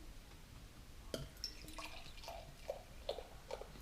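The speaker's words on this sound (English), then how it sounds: "So I'll probably do a pretty aggressive pour on it." Beer, a Sköll collaboration brew from 3 Floyds and Amon Amarth, is poured aggressively into a glass, giving scattered splashes and drips in short bursts over a quiet room.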